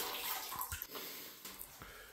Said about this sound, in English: rinse the sponge out, squeeze all the water out